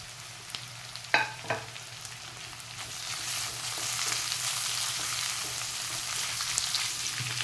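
Onion and capsicum stir-fry over a high flame for desi-style veg Hakka noodles, a few clatters and scrapes at first, then a rising, steady crackling sizzle that continues without speech.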